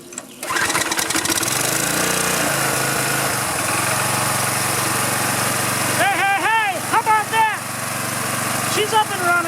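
A small gasoline engine, just out of storage, fires up and settles into a loud, buzzy, steady run close by, with someone talking over it near the end.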